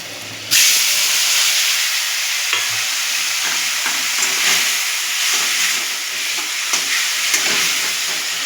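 Spice paste hitting a hot kadai and frying with a sudden loud sizzle that settles into a steady close hiss, with occasional faint stirring scrapes.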